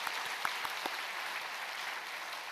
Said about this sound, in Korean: 이런 귀한 참여한 분들을 위해서 좀 박수 한번 보내주시면 좋을 것 같은데요.